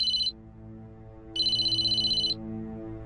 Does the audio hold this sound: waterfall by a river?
no